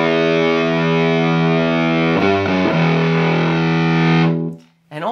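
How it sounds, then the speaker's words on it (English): An electric guitar plays through a Fuzz Face fuzz pedal, holding loud, thick, distorted notes with a horn-like buzz. A short pitch change comes midway, then the sustained tone cuts off near the end. "I'm just letting the fuzz do its thing and just sustain that"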